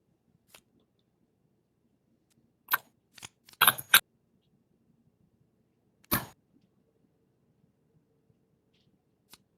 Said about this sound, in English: we are shuffling together 2 decks.